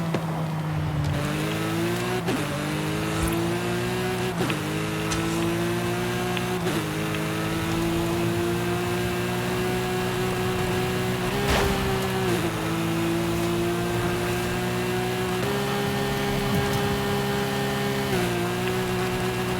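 A totally modified Porsche 911 GT3 RS engine in Forza Horizon 5 roars loud and steady, its pitch climbing through each gear and dropping sharply at every upshift, about six shifts in a row with no talking.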